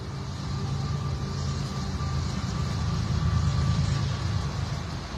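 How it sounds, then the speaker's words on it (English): Traffic and trains passing across the street, a steady low rumble of vehicles heard from indoors, continuous and moderately loud with no talking. "Traffic and trains."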